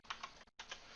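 Quick keystrokes on a computer keyboard while entering a value in a Microsoft Excel spreadsheet, a few soft close clicks split by a brief silent gap.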